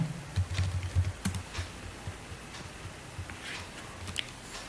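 Soft, irregular clicking of keys on a computer keyboard, quick taps in short bursts with a low background hum.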